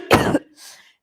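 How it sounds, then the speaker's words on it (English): A single sharp cough delivered up close by a teacher, loud and abrupt, followed by a brief softer breathy tail, then silence. "this is a cough, okay? A cough."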